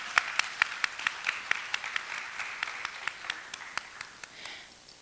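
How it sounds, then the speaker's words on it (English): Scattered, distinct claps from a small conference audience at the CANTO 2025 gathering in the Bahamas, crisp and separate with a steady, uneven rhythm that thins out over about five seconds. "Let's give her a round of applause."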